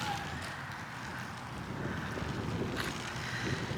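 Cold wind blows outdoors beside a church near a lake, a steady low rushing buffet against the microphone that swells slightly toward the end, with no voices.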